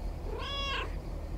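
A single cat meows once in the video game Lake, a clear, close, rising-and-falling call lasting under a second over a steady low hum.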